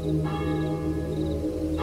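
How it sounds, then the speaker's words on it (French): A church bell in an abandoned village rings with resonant, sustained tolls that hang and overlap, heard alone without voices. "j'entendis résonner 3 fois la cloche de l'église"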